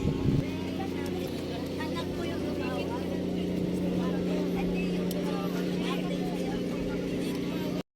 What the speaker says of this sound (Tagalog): A few moments later umaanda na rin ang sinasakyan naming barko.